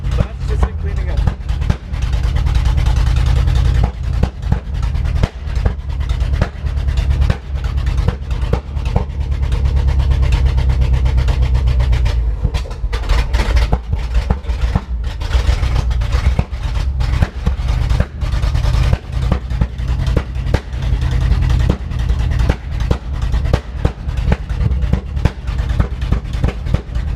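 A loud car engine idles steadily throughout, a deep continuous low rumble with uneven pulsing, while people talk over it.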